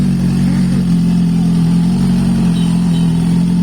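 Motorcycle engine held at a gentle, steady rev at a shop opening in Coimbatore, a constant close, loud drone without speech.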